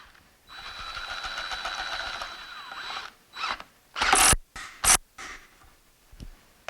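A power drill running backwards with a 3/8 socket extension whirs steadily, then stops and restarts in several short, loud bursts with ratcheting mechanical noise, close up and without speech.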